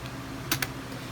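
Two quick, crisp keystrokes come from a laptop keyboard while a command is typed into a Linux terminal, close up against a quiet background hum.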